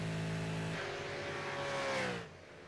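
A V8 Supercar race engine accelerates smoothly, its steady rising drone heard from onboard with a clear climbing tone before easing off near the end.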